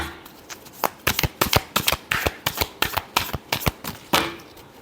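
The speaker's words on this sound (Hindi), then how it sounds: "Last shuffle." Tarot cards are shuffled in quick, crisp riffles. About twenty close snapping flicks run in an irregular rhythm, ending in a longer rustle.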